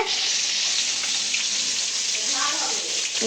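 Fish frying in a pan during an outdoor picnic cookout, a continuous, fairly loud sizzling hiss that runs steadily without a break.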